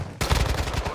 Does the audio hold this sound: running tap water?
no